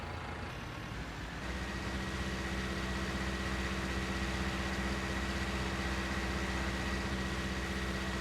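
A tractor engine runs steadily in Farming Simulator 19 while pulling a 12-meter cultivator, a loud, constant low droning rumble that rises slightly after the first second and holds evenly, with no talking.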